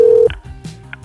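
A landline phone dials a number for a prank call: a short burst of touch-tone beeps, one held tone, then several quick separate keypad tones, loud and close with nothing else around them.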